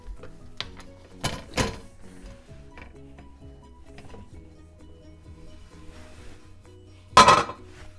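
A bundt cake pan for a s'mores bundt cake is flipped over and tapped: sharp metallic clanks and knocks, two close together early and one loud bang near the end, with lighter rattles between.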